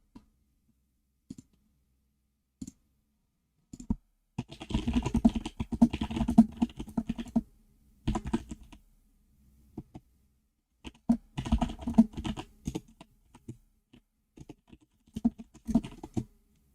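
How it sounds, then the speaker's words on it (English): Rapid bursts of computer keyboard typing, clattering keys in flurries separated by pauses and a few isolated taps, close and alone. "My bad if you guys just heard the typing."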